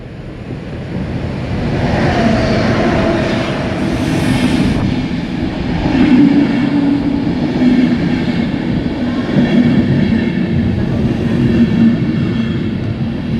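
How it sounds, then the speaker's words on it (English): An intercity train, an IC 1, pulls into Bonn-Beuel station with a loud, steady rolling rumble and wheel noise, a brief brake-like squeal early on, and no talking throughout. "here we can see our intercity arriving"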